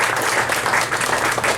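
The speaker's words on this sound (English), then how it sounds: "So can we give a round of applause to those community members doing the important work?" An audience at a university Chicana and Chicano studies fundraiser event applauds in a dense, continuous wash of clapping, loud and sustained through the short stretch.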